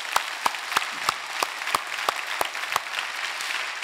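A church congregation at a Sunday service claps together in a strong, regular rhythm, about three claps per second, sharp and evenly spaced over a softer bed of scattered clapping, fading slightly toward the end.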